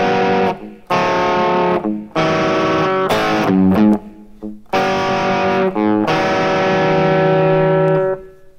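Distorted electric guitar chugs through the verse riff of a song, loud and close, in chopped phrases with short gaps, ending on a long ringing chord.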